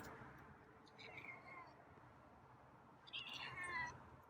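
Two soft meows from a feral cat, one faint and short, then a slightly louder, longer call a couple of seconds later, heard over low ambient noise.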